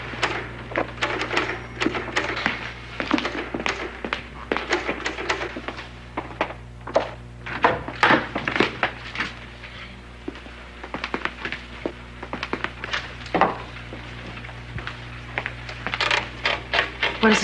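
A typewriter clacks with an irregular string of sharp keystrokes and thunks, heard at some distance in a room over a steady background hum.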